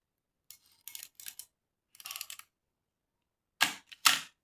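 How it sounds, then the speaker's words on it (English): Metal focal-plane shutter and lever on a Cosina 35mm SLR film camera: a run of small dry mechanical clicks and ratcheting bursts, then two sharper, louder snaps, close-up in a quiet room. "You can see the shutter going down when I move this lever"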